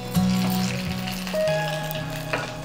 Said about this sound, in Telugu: మిరియాలు, జీడిపప్పు ఇవి లైట్గా వేగిన తర్వాత అల్లం ముక్కలు వేసుకోవాలి.